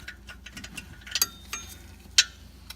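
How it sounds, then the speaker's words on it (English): A 10mm socket on a ratchet clicks in a few quiet, sharp bursts while brake pads and rotors are being replaced on a Porsche Panamera. "I'm gonna use my ratchet, 10mm"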